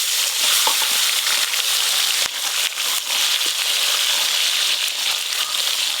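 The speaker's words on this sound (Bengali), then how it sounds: "বাকি মাছগুলো একই রকম ভাবে ভেজে নেব।" Sarpunti fish fry in oil with a loud, dense, continuous sizzle, dotted with sharp crackles and pops throughout and a couple of stronger snaps.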